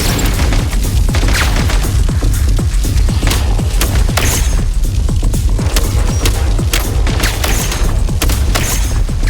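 A frag grenade explosion in Genshin Impact lands among a dense, continuous barrage of loud booms and crackling bursts that carries on without a break for several seconds.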